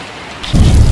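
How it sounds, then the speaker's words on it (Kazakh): A heavy rain downpour bursts in suddenly and roars loudly and close, with a dense wash of falling water taking over after a quieter start. "Нөсер жаңбыр жай жаңбырға қарағанда қатты құйып жауады."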